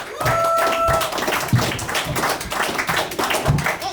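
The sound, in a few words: audience applause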